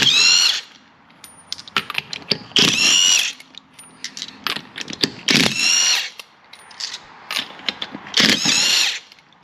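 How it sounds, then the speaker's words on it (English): A Seesii 1/2-inch cordless impact gun takes wheel lug nuts off, with several loud bursts of rattling, whirring hammering between short pauses and brief clicks, close up, with no voices. "it was almost like the gun didn't even actually start to hit the hammer taking those off"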